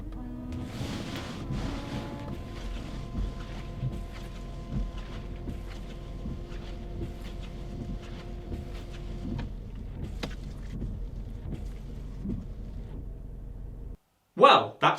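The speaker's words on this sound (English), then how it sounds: "let's clean the windscreen and see what happens" A windscreen washer and wipers clean a muddy, sun-baked windscreen on a Nissan Primera P12. A steady motor whir with sweeping wiper passes runs under a speaking voice, then stops abruptly near the end.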